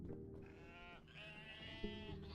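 A sheep in the Visions of Mana video game gives a drawn-out, wavering bleat, close and clear over a low background hum, with a brief second call near the end.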